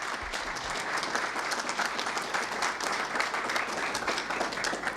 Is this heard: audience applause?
yes